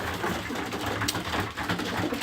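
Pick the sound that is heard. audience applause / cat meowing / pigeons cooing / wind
pigeons cooing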